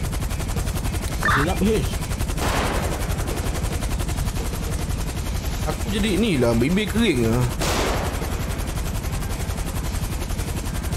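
Rapid automatic gunfire in the video game GTA 5 rattles continuously and loudly throughout, with people talking over it.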